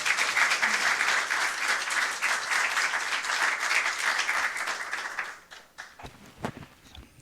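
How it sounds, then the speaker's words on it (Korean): Audience applause at a Korean public forum on walking and health, steady dense clapping for about five seconds that then breaks up into a few scattered, fading claps. "큰 박수 부탁드립니다"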